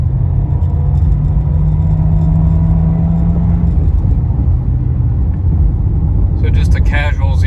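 A 2022 Volkswagen Jetta base model running on 87 octane accelerates from 0 to 60 mph, its engine note rising in pitch through a shift with a steady rumble of road noise, loud and close inside the cabin.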